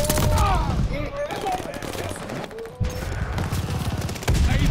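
Gunfire in the Call of Duty: Vanguard video game, rapid bursts of shots and booms crackling over a busy battle mix, with a voice talking over the shooting.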